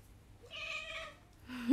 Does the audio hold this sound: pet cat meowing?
yes